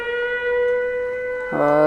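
A steady wailing siren tone in a horror video game holds for over a second, then a louder, deeper blaring siren cuts in abruptly near the end.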